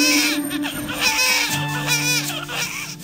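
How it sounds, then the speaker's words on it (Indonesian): A newborn baby cries in short, rising wails broken by pauses, fairly close and loud, with a thin steady tone running underneath. "saat mendengar suara tangis bayi memecah ketegangan"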